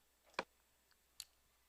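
Two faint, separate computer mouse clicks about a second apart in a quiet room, with no talking.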